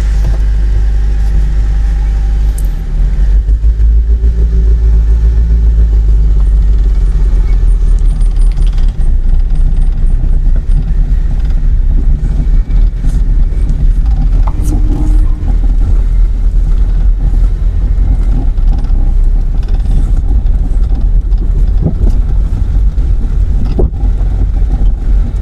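Car driven by a learner at a driving training center in Chapainawabganj, a steady low engine hum and road rumble running continuously and close throughout, with no talk.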